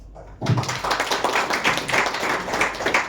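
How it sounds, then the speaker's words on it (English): Applause and clapping from a crowd at a cricket league team-owner auction in a banquet hall, starting abruptly after a brief silence and then holding steady and dense throughout. "A massive round of applause for the visionaries who have backed the MPL."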